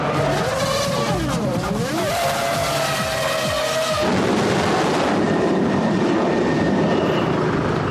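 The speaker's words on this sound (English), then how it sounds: "With engines running and cars screaming by on the track, it's impossible to hear" Loud Formula 1 engines roar and whine past, pitch swooping as cars scream by close on the track, then a dense sustained mechanical rumble takes over.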